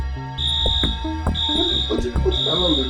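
A fire alarm beeps in repeated long tones, loud and steady, with people talking over it in a Nigerian movie scene.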